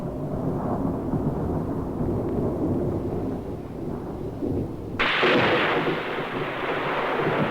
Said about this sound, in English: Just as we predicted, the storm system reached us late in the afternoon.